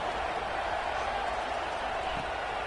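A football stadium crowd at an Ole Miss game roars in a dense, steady wash of cheering and noise, loud and continuous with no break.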